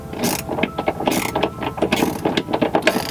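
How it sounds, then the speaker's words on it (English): A ratchet cranks down self-locking nuts while a tow hook is fitted to a car, producing rapid, close metallic clicking in quick bursts with scraping in between. "Now these are kind of like self-locking nuts, so you will need to crank them down."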